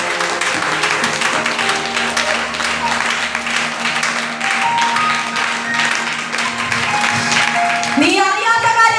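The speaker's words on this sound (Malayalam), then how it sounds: "കൈയടിച്ച് എല്ലാവരും കൈയടിച്ച് നിർബന്ധം." A church congregation at a fasting prayer service claps together, a dense, sustained wash of hand claps running throughout, with a swell of singing or voices joining near the end.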